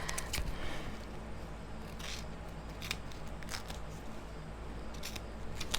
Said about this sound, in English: those scissors are not sharp enough to get through that with the sticky